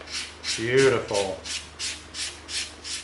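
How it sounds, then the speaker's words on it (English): Rhythmic back-and-forth rasping strokes of a 220-grit sanding stick rubbing an EVA foam edge, close up and evenly paced, with a brief spoken word over them. "Now we're going to come in with our 220 sanding stick. And we're going to smooth the edge of this off"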